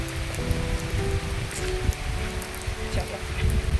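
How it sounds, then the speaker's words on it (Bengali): Heavy rain pouring down during a cloudburst, a dense continuous patter on surfaces close by, with traffic rumble underneath. "প্রচন্ড মেঘ করে জোরে বৃষ্টি এসেছে, তাকাতেই পাচ্ছি না, এত জোরে বৃষ্টি হচ্ছে"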